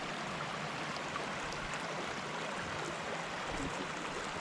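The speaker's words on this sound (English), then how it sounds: "I'm gonna walk in the stream here to try to get up to that waterfall that we've been shooting from a distance." Water in a mountain stream near a waterfall in the Bridger Wilderness flows with a steady, even broadband rush that stays constant throughout, with no voices.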